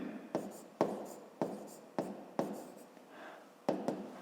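Pen or marker writing an equation by hand on paper, a run of short scratchy strokes with sharp onsets roughly every half second, close and fairly quiet, with no talking.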